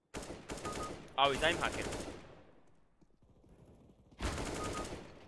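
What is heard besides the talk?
gunfire in video game CS:GO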